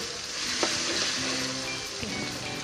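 Chopped ginger sizzling in hot oil in a home kitchen while cooking a spicy Telangana-style chicken curry, a steady close crackling fry with occasional stirring clinks and scrapes, no talking.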